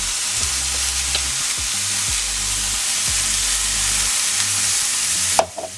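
Ground beef sizzling and frying in a pan for a tater tot hot dish, a steady loud hiss broken by a few scraping stirs, close up with no voices.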